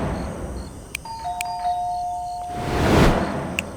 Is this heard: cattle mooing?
no